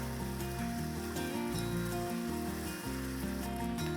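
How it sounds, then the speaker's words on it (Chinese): Chicken thigh pieces frying in hot coconut oil in a pan for pumpkin curry, a continuous loud sizzle with steady crackle, heard up close over background music with no talking. "鸡腿肉先下锅炒香"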